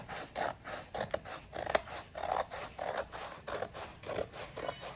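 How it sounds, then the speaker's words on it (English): Rhythmic snipping of scissors through paper, a steady series of close, crisp cuts with short scraping rasps, no voices. "just go in with my scissors and cut on that line"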